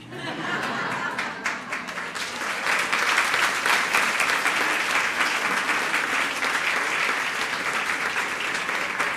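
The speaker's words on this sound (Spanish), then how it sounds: "Ese aplauso está flojo." A church congregation at a Sunday Mass at San Agustín de Puerta de Tierra breaks into sustained applause, building after a couple of seconds into a steady dense clatter of many hands, with a few chuckles mixed in.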